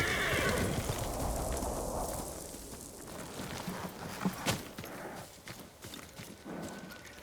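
A horse whinnies loudly at the outset in Ghost of Tsushima, then hooves clip-clop irregularly on the ground with snorts and shuffling, amid rustling outdoor ambience.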